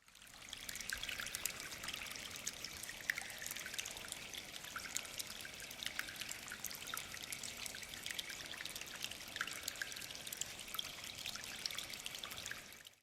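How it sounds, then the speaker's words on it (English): Water pours steadily from a pipe in an outdoor field recording, a faint, continuous trickling splash with small drips scattered through it and no voices. "Firstly is water coming out of a pipe, and this is before all the processing too."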